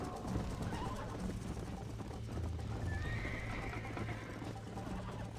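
Horse hooves clip-clop steadily over ground amid constant outdoor noise, with a horse snorting and whinnying nearby.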